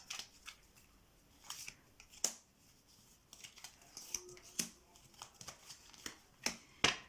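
Tarot cards are shuffled and drawn in a quiet room: a series of crisp, close paper flicks and riffles in irregular bursts, with short pauses between them.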